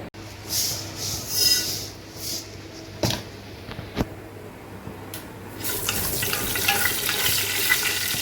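Oil heating in a pan for frying dried fish, a soft sizzle and crackle that grows louder and denser toward the end, with a few clinks from utensils and no talking.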